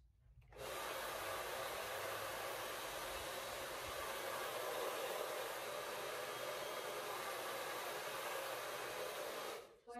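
A hair dryer blows steadily on curly hair, switching on just after the start and running as a continuous broadband whoosh for about nine seconds before cutting off near the end.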